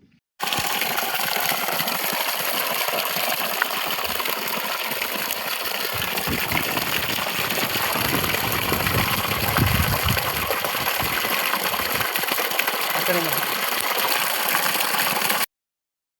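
Water from a solar-powered borewell pump, sunk 620 feet, gushes out in a loud, steady, unbroken rush that starts abruptly and runs for about fifteen seconds before cutting off.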